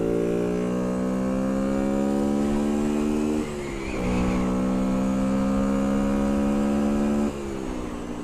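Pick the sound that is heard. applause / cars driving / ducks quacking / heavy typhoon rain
cars driving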